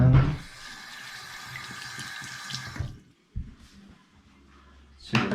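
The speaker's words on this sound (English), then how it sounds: "Wash my hands." Tap water running into a sink as hands are washed under it, a steady close splash for about three seconds, then the flow stops, followed by a faint drip and a brief clunk.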